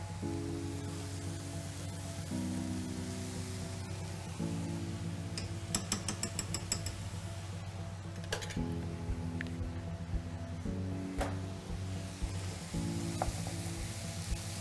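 Vegetables for a shepherd's pie fry in oil with a steady, close sizzle, broken by occasional scrapes and clinks of stirring; no one speaks.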